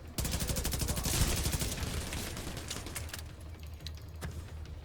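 Deployed turret gun in Division 2 firing at enemies, rapid sustained automatic bursts that rattle steadily for several seconds and then thin into sparser shots.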